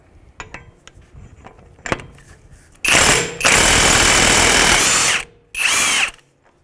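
A power tool turns a 36mm socket to remove the axle nut on a 2011-2017 Honda Odyssey front wheel hub, giving two long, loud hammering bursts, close by, after some light clanks.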